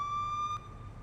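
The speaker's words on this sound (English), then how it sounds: "We do have the sirens separately" Police Simulator police car siren sounds as a steady electronic tone that cuts off abruptly partway through, leaving only a low hum behind.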